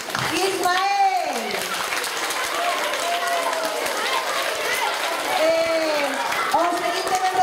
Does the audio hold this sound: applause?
yes